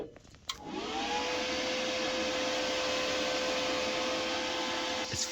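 A budget GIANTZ TIG welder switched on at the back starts with a brief click, then settles into a steady, close, continuous electrical hum and fan-like whir with a fixed tone, running alone with no talk.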